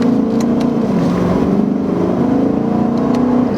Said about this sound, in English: But that sound, I need to hear this engine with an intake and exhaust.